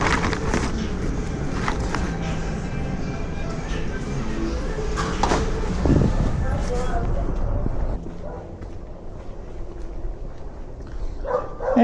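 A puppy barks and yips close by in a car, the sharp bursts coming over steady road rumble while a voice talks.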